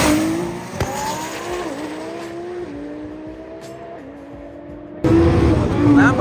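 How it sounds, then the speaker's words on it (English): Lamborghini doing a burnout at a drag racing event, a sustained high tire squeal with revving engine tones that shift in pitch, followed by a louder burst near the end amid crowd background noise. "Lambo burnout?"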